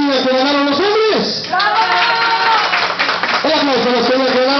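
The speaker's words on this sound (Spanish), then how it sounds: "El aplauso para los niños que ganaron los hombres." Crowd applause at a clown show in Tulancingo, Hidalgo, a bed of clapping under an amplified voice and bright high-pitched cheering and shouting from children.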